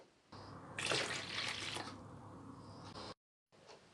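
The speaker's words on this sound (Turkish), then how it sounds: "1 su bardağı da ılık su ekliyorum." Warm water pours into a bowl as poğaça dough is started with warm milk: a steady splashing stream for about two and a half seconds, then a brief silence and a softer trickle.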